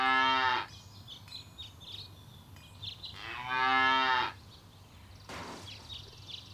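A cow in the Deponia video game moos twice with loud, sustained calls a few seconds apart, over quiet ambient game sound with a short burst near the end.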